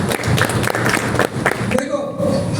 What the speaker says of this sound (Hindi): तो सर के लिए जोरदार तालियां होना चाहिए।